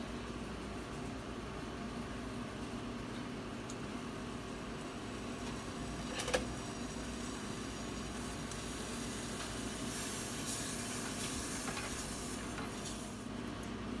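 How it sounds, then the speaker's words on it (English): Two tablespoons of butter melt in a pan as the base for an Alfredo sauce. A faint, steady sizzle runs throughout under low background hum, broken by one brief clink midway. "So I'm going to melt my butter."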